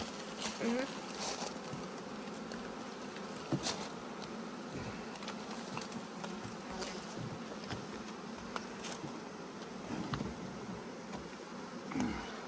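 Honey bees swarm and buzz around a hive entrance at a working apiary, a dense continuous drone close by with scattered clicks and brief handling noises.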